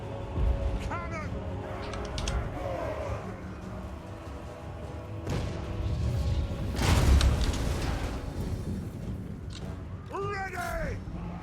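Cannon fire in Total War: Warhammer, booming blasts on a battlefield, one heavy thud rising clearly above the constant din of fighting and shouting voices.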